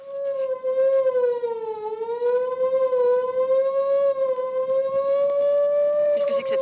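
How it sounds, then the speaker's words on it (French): A wailing alarm siren signals a prison escape in a French radio drama, rising and falling slowly in pitch and sounding loud and continuous for several seconds, with faint background noise near the end. "Qu'est-ce que c'est que cette sirène? C'est le signal d'alarme. Une évasion."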